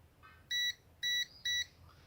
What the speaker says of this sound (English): Alright, going into beep mode.